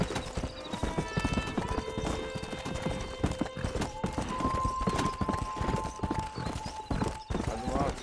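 Horse hooves clip-clopping at a steady galloping rhythm in the Red Dead Redemption video game, loud and continuous, with game music tones and occasional horse whinnies mixed in and a voice talking over it.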